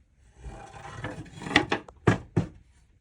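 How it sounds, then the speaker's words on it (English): Sandpaper scuffs the shiny coating off a wooden tray table in a few short, rough, close rubbing strokes that grow louder toward the end. "Sand so that it's no longer shiny, kind of dull."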